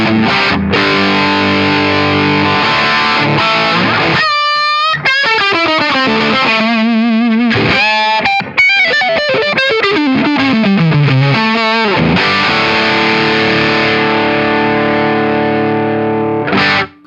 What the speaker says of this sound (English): So this is their take on the very famous green overdrive.